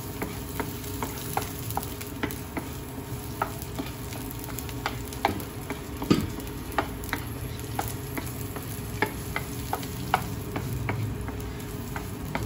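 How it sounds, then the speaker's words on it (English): Garlic sautéing in a pan for pancit canton, a constant close sizzle broken by regular spatula taps and scrapes against the pan; no talk. "Okay, saute the garlic."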